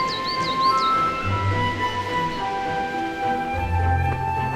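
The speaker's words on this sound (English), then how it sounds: "I can hear a tiny little bird called a coal-tit" A coal tit sings a few quick, high, thin notes near the start in early spring woodland in a wooded dene, faint against a tonal background hum with occasional low rumbles.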